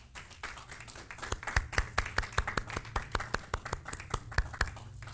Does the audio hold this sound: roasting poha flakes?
no